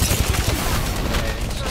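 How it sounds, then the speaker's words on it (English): Sustained enemy gunfire in an online shooter video game, a loud, continuous stream of overlapping shots and booms lasting nearly two seconds, with a voice speaking over it. "The enemies are shooting at me."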